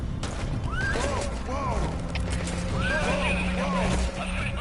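D-Horse, the horse companion in Metal Gear Solid V: The Phantom Pain, gives several repeated whinnies and neighs in a game scene, with a steady background hum and some faint clatter.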